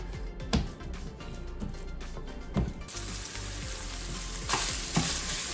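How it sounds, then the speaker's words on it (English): Breakfast pork sausage fries and browns in a pan on a stove with a steady close sizzle. Clattering stirs and a few knocks break in, and a louder hiss swells partway through. "now I'm just gonna cook up some breakfast pork sausage. Get that nice and browned"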